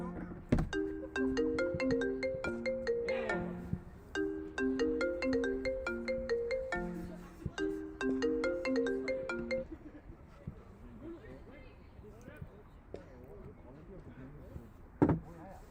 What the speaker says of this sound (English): Somebody's phone is ringing here and we don't even know whose phone.